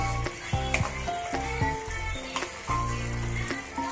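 Roasted masala goes into sizzling kantoli bhaji, with a soft frying hiss under repeated clanks and scrapes of a utensil against the pan, close and fairly loud.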